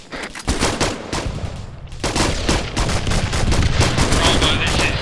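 Gunfire in a military video game set in a desert, a heavy crackle of rifle and machine-gun bursts that runs almost throughout, loud and close, with a short lull before the shooting resumes.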